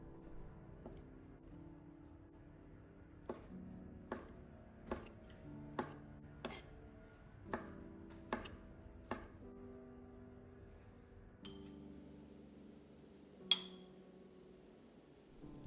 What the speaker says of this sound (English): the mozzarella fiori di latte I cut into strips for that Neapolitan look